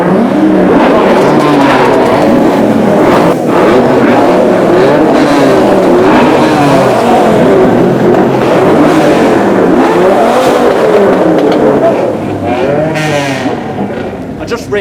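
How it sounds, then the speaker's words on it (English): Supercars at the Beaulieu Supercar Weekend keep revving, a dense, loud wall of engine noise with repeated climbing blips from several cars, easing slightly near the end. "they can't hear me if they start revving up"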